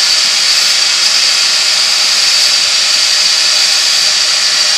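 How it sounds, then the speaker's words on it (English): A wooden bottle stopper turning on a woodworking lathe has its end sanded, producing a steady, loud whirring hiss with no breaks and no talking. "you can sand that end bit down to 600 if you want to"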